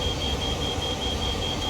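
The alerter in a GP38-2 locomotive in Train Sim World beeps steadily and insistently in the cab, a repeating electronic tone running over a constant low rumble of engine noise.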